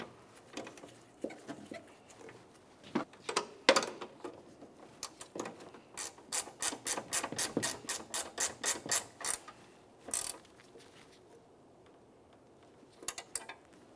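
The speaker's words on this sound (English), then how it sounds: "Start on your mounting nut and snug it up." Close ratchet clicking snugs the mounting nut on a new hood spring for a 2000-2006 Chevrolet Tahoe, starting with scattered ticks and settling into a steady run of even clicks before tapering off to a few final turns.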